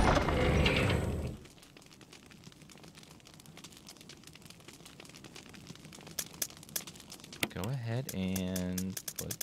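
In Resident Evil Remake, a typewriter beside an item box taps out a steady run of quiet mechanical clicks and clacks, ending in a ratcheting carriage sound as a voice briefly speaks near the end.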